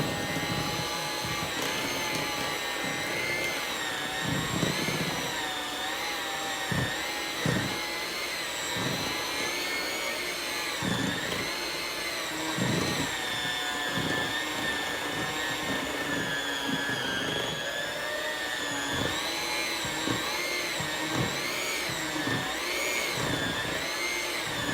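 An electric hand mixer beating holiday drop cookie dough, a loud, steady whirring motor drone with small wavering pitch changes and intermittent low thumps of the beaters against the bowl.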